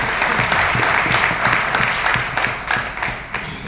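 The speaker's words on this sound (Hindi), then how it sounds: "उनके लिए दिल से तालियां होनी चाहिए" An audience at an annual program in Kolkata applauds, giving a sustained, dense wash of clapping that stays loud, with slight swells toward the end.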